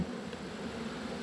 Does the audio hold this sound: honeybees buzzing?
yes